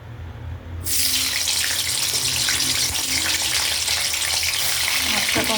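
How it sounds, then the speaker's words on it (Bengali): Paneer drops into hot oil and a loud, bright sizzle erupts after a quiet moment, then crackles steadily and close for the rest of the time. "প্রথমে পনিরগুলো ভেজে নেব পনির তেলটা গরম হয়ে গেছে"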